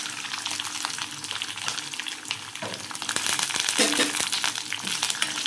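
Garlic tossed into hot oil with green chillies and curry leaves for garlic lemon rice, a dense, steady crackling sizzle that grows louder and busier partway through.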